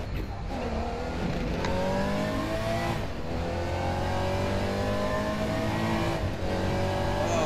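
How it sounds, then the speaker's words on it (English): A Porsche 911 GT3 race car in the RaceRoom racing game roars past with a loud, sustained engine note, the pitch climbing through repeated gear changes. The car stays close and prominent throughout, with no talk over it. "Just look at the 911 just blow right by me like I'm standing still."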